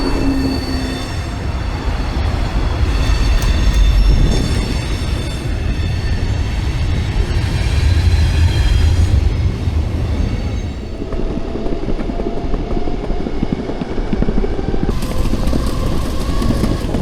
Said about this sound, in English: It's always cool to see the freight train on the elevated tracks rolling through the city.